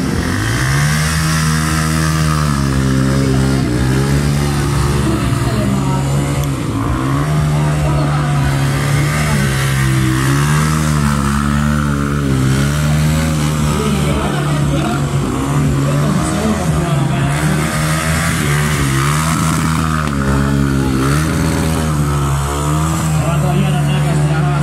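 A stunt-show car driven on two wheels with a front wheel in the air, the engine droning and revving hard at close range over a steady roar, with a commentator talking over it.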